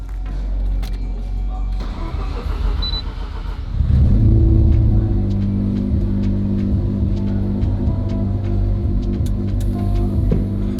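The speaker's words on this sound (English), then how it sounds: "Let's hope the car starts." A Mazda RX7 pickup, parked for a long while, cranks and catches, then settles into a loud, steady, low rumbling idle that continues to the end.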